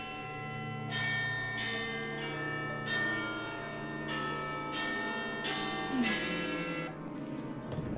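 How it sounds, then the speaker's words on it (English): A deep, resonant gong or bell rolls through a dark crypt in a Strahd tabletop horror game, struck repeatedly in slow succession with long ringing overtones that blend into a sustained metallic wash. "gong of Strahd's approach."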